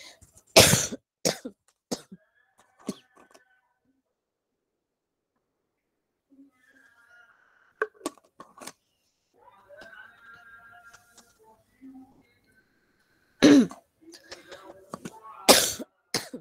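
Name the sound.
coughing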